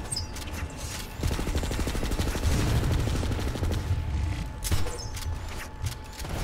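Rapid automatic gunfire in a first-person shooter played with a cloaking infiltrator, as a loud close burst of shots over a dense rumbling din, with a few sharper cracks later.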